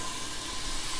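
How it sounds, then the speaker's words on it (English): Blueberry BBQ sauce and salmon sizzle in a hot pan, a loud, continuous, close steamy hiss with no pauses or voices. "It's going to sizzle up a little bit."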